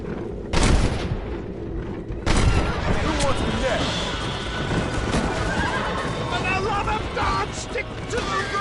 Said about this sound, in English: We're never gonna make it with one horse!